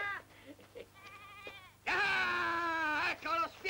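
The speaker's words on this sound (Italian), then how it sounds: "Te l'avevo detto che era una capra" A goat bleats loudly and harmonically in one long, wavering call, followed by a shorter bleat, after some quieter talk in a 1971 Italian period film.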